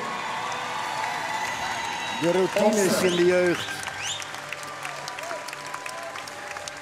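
Crowd at a Dutch stallion championship show applauds and cheers in a brief loud burst over steady arena murmur, with a commentator talking throughout.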